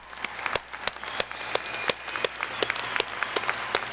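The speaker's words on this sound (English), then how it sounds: "let us give your families and friends a rousing round of applause." Applause from a law school commencement crowd honoring families and friends, a moderately distant room of many hands with distinct individual claps popping out irregularly over a steady patter.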